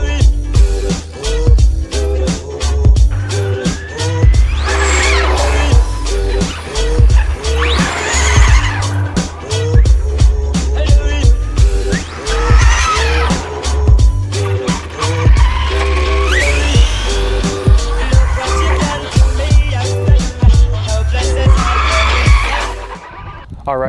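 Arrma Infraction RC truck tearing around with its body on, tires squealing and skidding repeatedly over a buzzing high-pitched motor whine, loud and close with rapid bursts of acceleration.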